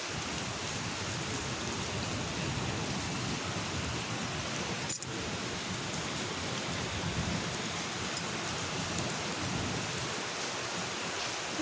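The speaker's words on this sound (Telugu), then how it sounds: "వడగళ్ళ వర్షం అంటే ఇదే" Dense, roaring hailstorm downpour drums steadily without pause, with a single sharp crack partway through.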